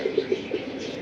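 Pigeons in a breeder's collection coo softly in a few repeated low hoots, close by, over a steady background hum.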